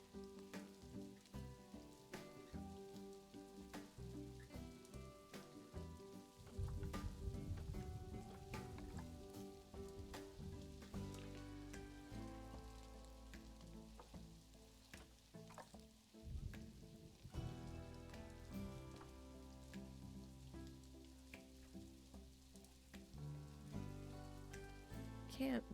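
Steady rain falls across a zoo park in the video game Planet Zoo, a continuous hissing patter mixed with game music and ambient park sounds throughout.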